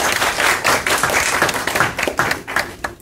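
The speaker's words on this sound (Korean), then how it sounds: "발언해주신 이정인 의원님께 다시 한번 박수 부탁드립니다" Audience applause for a speaker at a youth suffrage debate, a dense burst of many hands clapping that stays strong for several seconds before thinning out near the end.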